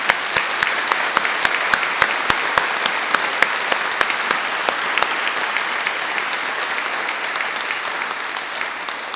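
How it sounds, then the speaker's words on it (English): A graduation ceremony audience in a hall gives sustained applause, dense and even throughout, with a few sharp, close claps standing out from the crowd. "You all deserve a huge round of applause."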